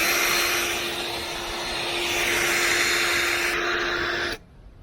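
A polisher with a polishing pad runs on a van's scratched paint, a loud steady whining drone with a constant tone that cuts off abruptly near the end.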